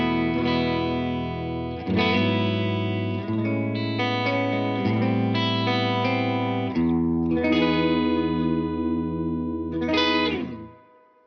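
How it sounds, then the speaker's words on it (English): An electric guitar plays a clean tone through a Mesa/Boogie Fillmore 25 amp in clean mode with a touch of amp reverb, sustained chords and notes ringing out alone and fading at the end. "So clean tone, for reference, is clean mode on the Fillmore 25."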